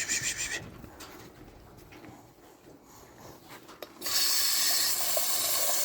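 At a cattle farm, a water tap is opened for an animal. Soft rubbing and knocks give way to a loud, steady rush of running water that continues to the end, with no talk.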